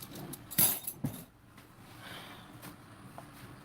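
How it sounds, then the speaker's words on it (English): Dishes are put away with a bright clink of crockery and a couple of knocks near the start, then faint rustling and handling sounds in a quiet kitchen, close but soft. "I'm gonna put my dishes away."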